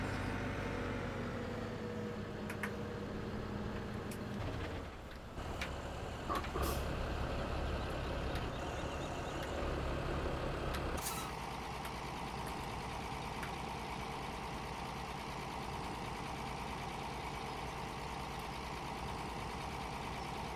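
Tractor engines idling in Farming Simulator 2017, a steady low diesel rumble with mechanical whine droning continuously, plus a few sharp clanks and a brief hiss partway through.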